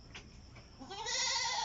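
Goats bleat in their new elevated pen, a loud nasal bleat rising after a few fainter calls, close by and with no talk.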